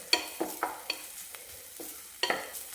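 Ginger and garlic roast over low heat in a pan, heard as a faint, soft sizzle beneath several sharp stirring scrapes and clicks of a utensil against the pan.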